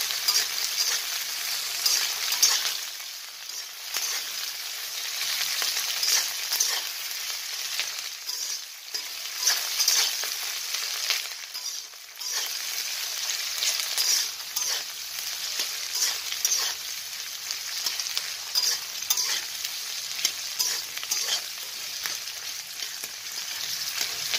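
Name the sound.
frying and stirring capsicum in a pan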